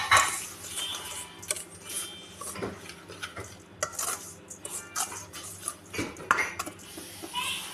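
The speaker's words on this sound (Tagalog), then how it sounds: "Then, paghaluin ng lahat." Cupcake batter ingredients mixed in a bowl, with irregular clinking and scraping of a utensil against the bowl and bursts of quick stirring.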